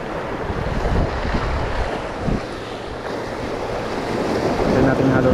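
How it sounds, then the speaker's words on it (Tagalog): Sea waves surge and wash against shoreline rocks at a fishing spot, a steady loud roar of surf and wind noise filling the whole stretch, with a swell peaking midway. "Pinasok ng alon sa bato."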